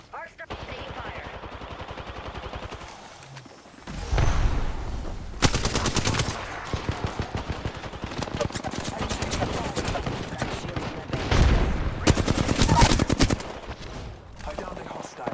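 Rapid automatic gunfire from Apex Legends, a battle royale shooter, with dense rattling bursts and single cracks, loud and close, broken by short pauses and occasional heavier booms.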